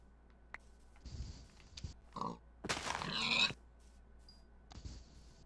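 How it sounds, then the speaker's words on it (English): Pig grunts in the Minecraft video game, a few short separate snorts and grunts spread across a quiet game scene, with one louder burst in the middle. "there's a pig down there that just appeared out of nowhere"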